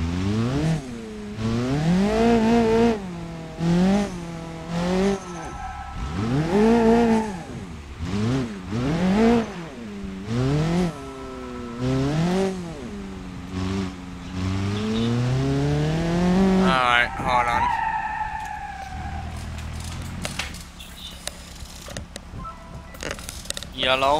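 Car drifting, the engine revving up and down in rapid swells with tyres squealing, loud and close, continuing over a long run with talk over it near the end.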